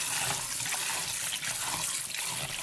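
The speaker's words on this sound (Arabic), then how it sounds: "طبعا بنحطها في مصفاية ونغسلها بالمية." Liver being rinsed under running tap water in a kitchen strainer, a steady close broadband gush of water with no talking.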